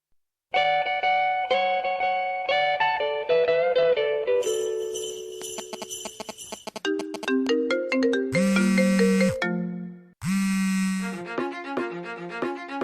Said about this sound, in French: je lance le jingle